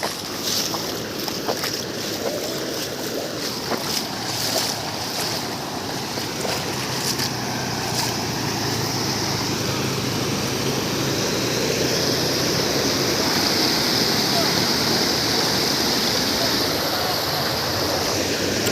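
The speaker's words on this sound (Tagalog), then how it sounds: "Grabe agos ang tubig dito." Strong floodwater current rushes steadily in a flooded field, a dense broadband roar that stays loud and continuous throughout.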